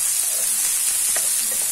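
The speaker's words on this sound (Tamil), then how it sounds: "வெங்காயம் பூண்டு கொஞ்ச நேரம் நல்லா வதங்கட்டும்" Onion and garlic sautéing in a pan for a quick pasta dish, a steady close hiss and sizzle with faint stirring, no talking.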